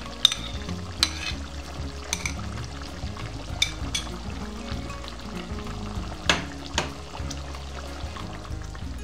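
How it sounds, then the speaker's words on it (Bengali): Sour yogurt goes into a sizzling beef karahi with melted tomato, setting off bubbling frying and stirring clatters with a few sharp spoon knocks against the pan over about nine seconds, no voices. "এখন আমি এই পর্যায়ে টক দই দিয়ে দিচ্ছি।"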